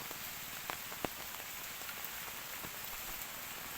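Rain falls outdoors beside a rice paddy, a steady soft patter with scattered individual drops standing out, faint and continuous with no voices.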